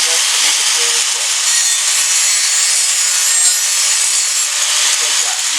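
A power grinder sharpens a lawn mower blade, giving a loud, steady, harsh grinding hiss that runs without a break for several seconds, close by, with no talk over it.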